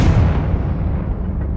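Confringo fire spell exploding in the video game Hogwarts Legacy: one loud, heavy booming blast that rumbles and fades out over a second and a half.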